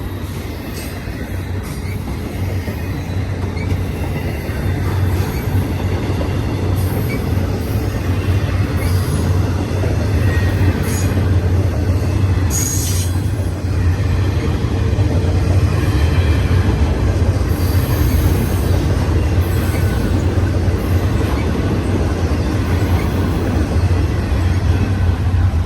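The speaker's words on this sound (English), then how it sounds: "It's a domestic stack over there going" A BNSF intermodal domestic double-stack freight train rolls past steadily, a continuous loud rumble of wheels and cars with faint squeals and clicks throughout, no talking.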